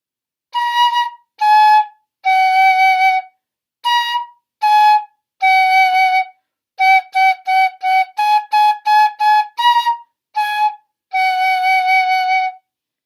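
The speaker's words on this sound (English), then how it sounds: "Here is the sound of the Nuvo Toot." A bright, breathy plastic Nuvo Toot fife plays a sequence of short notes, some held longer, moving between a few pitches in a simple tune.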